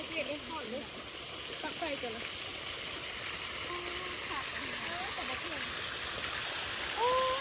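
Water runs steadily from a two-way garden fountain as a constant rushing wash, while people talk in the foreground over it.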